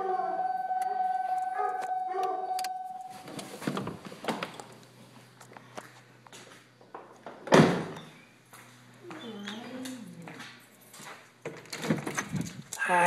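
A dog howls and barks in bursts, with a loud thump partway through and people talking nearby.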